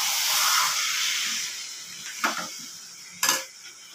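Chicken and fried potatoes sizzle while being sautéed in a pan in a home kitchen, a steady soft hiss broken by two brief clinks of stirring.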